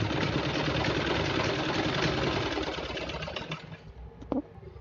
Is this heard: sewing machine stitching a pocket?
yes